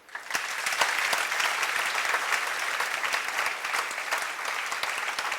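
Dense applause from a large audience at a celebration for two people who became government officials, steady and loud throughout, with individual claps popping out of the wash and no talking over it.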